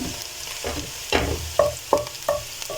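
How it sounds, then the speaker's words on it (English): Onions for a potato stew fry in a pan until translucent, giving a steady low sizzle broken by several clinking stirs against the pan. "fry it until it's nicely translucent."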